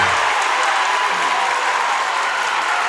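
Clay County fans at a boys' district championship basketball game roar and clap in a dense, sustained wall of crowd noise that holds loud and even throughout.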